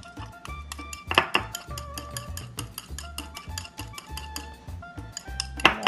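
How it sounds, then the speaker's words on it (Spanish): Cheese ball batter of mozzarella being whisked by hand in a bowl, with a steady run of close, bright clinks and scrapes of the whisk against the bowl, a few louder knocks, no talking. "Aquí estoy batiendo"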